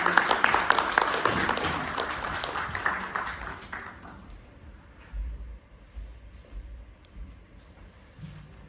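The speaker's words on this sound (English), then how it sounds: "May we have a round of applause." Dense crowd applause at an opening ceremony, loud at first and then fading out after a few seconds, leaving a quiet room with faint low murmurs.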